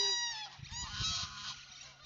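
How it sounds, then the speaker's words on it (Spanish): Ducks calling at a countryside camping spot, a short burst of loud, nasal honking calls overlapping in quick succession, fairly close. "Miren los patos allá."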